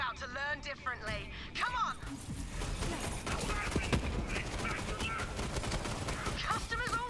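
Rapid sniper and other gunfire crackles in the Borderlands 3 video game amid explosions and chaotic combat noise, with people talking over the shooting throughout.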